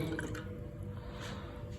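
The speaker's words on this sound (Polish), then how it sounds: "Lejemy trochę octu" Vinegar pours into a container, a soft continuous trickling and gurgling of liquid heard close up but fairly quiet over its short span.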